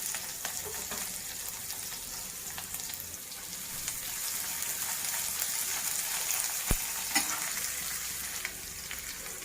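Onions fry in a pan for masoppu sambar with a dense, continuous sizzle, close and fairly loud, with a few utensil knocks partway through and no voices.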